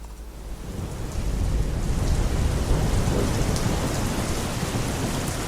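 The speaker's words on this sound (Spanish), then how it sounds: "ruido de lluvia?" Rain and thunder sound effect: steady heavy rainfall pattering on surfaces with a low rolling thunder rumble underneath, loud and continuous throughout.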